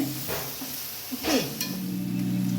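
Onions sauté in oil in a pan as a utensil stirs them, giving a soft, continuous sizzle broken by a few scraping and clinking stirs, close by and with no talking.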